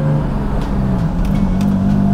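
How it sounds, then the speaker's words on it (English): A Jaguar Mk2 with a freshly rebuilt engine accelerates hard up a driveway with wheel spin, its loud, steady engine roar rising in pitch and filling the whole clip. "Wheel spin up the drive."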